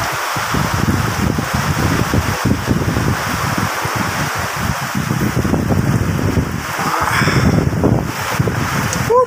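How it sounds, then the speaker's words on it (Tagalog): Strong typhoon wind roars steadily and loudly outdoors, with rough gusting buffets and rustling throughout, close to the microphone. "kita nyo naman yung hangin. Sobrang lakas."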